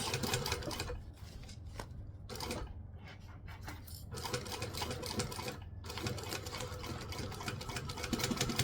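A sewing machine back stitching through the layers of a bag, its needle running in a steady rapid chatter with a few short pauses between bursts, close and alone.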